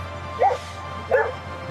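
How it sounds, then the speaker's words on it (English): A small dog gives two short, sharp barks about three-quarters of a second apart, fairly close and over a faint steady hum. "Looks like a rat, barks like a demon"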